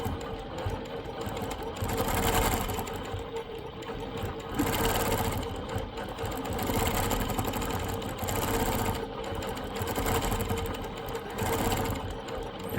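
A longarm quilting machine stitches a quilt sample for a quilt shop, a steady close mechanical hum and rapid needle clatter running continuously with slight swells as it moves across the fabric.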